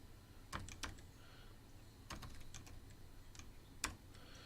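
A few isolated computer keyboard keystrokes, sparse clicks in short bursts with pauses between, fairly faint over a low background hum.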